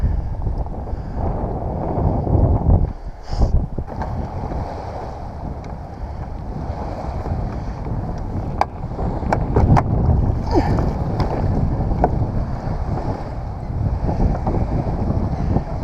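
A kayak rides small surf waves on East Canyon water, with loud wind buffeting the microphone over sloshing, splashing water that swells and eases as the boat moves.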